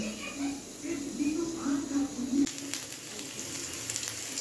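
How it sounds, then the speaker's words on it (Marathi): Stuffed fish frying in hot oil crackles and sizzles steadily up close, with a person's voice murmuring over the first half before the frying continues alone. "छान आता याच्यामध्ये फ्राय करून घ्यायचं"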